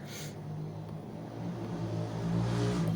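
Motorcycle traffic passes on a South American street outside, a low rumbling engine drone that builds gradually and grows louder toward the end, with no talk.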